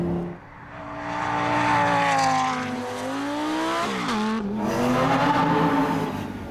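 A Lamborghini Gallardo Superleggera sports car's loud, flat-out engine roars close by, with rising and falling revs and shifts through gears, continuous for several seconds.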